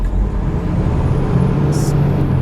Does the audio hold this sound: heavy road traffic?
yes